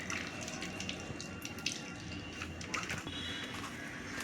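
Coconut milk for sol kadhi strained through a cloth or small strainer, trickling and dripping in a steady, continuous close-up flow with no talking.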